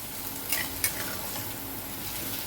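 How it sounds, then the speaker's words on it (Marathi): Onion is sautéed in hot oil in a kadhai, a steady close sizzle with a couple of sharp scraping stirs of a spatula early on. "कांदा आपण परतून घेऊया."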